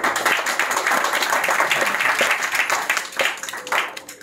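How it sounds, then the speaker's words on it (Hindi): Applause at a stage play: a room full of people clapping vigorously in an uneven, lively rhythm with individual claps standing out, sustained for a few seconds and easing slightly near the end. "लेडीज एंड जेंटलमैन, एक बार प्रताप जी के लिए जोरदार ताली।"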